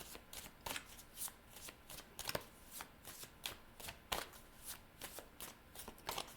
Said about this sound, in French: Je vais juste prendre une carte.